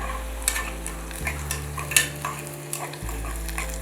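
Onion frying in a pan on the way to golden, a continuous close sizzle with intermittent stirring scrapes and light utensil taps, plus a low steady hum underneath.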